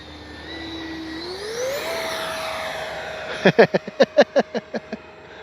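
A Freewing L-39 80mm RC jet makes a low pass, its rising ducted-fan whine sweeping up in pitch and fading, followed by a rapid series of sharp, loud bursts near the end.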